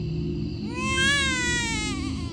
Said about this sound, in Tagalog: Hanggang sa may marinig kaming iyak ng sanggol.